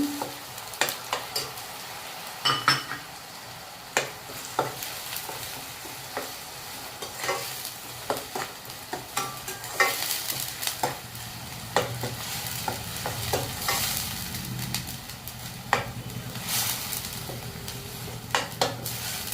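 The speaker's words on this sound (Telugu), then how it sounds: "పచ్చివాసన పోయేదాకా వేగిన తర్వాత ఆనియన్స్ బాగా వేగాయి" Onion and ginger paste fries in a pan, giving a continuous sizzle overlaid with frequent sharp scrapes and taps of a spoon stirring, close and fairly loud, with no voices.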